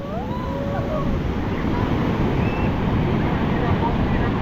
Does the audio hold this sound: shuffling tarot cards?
no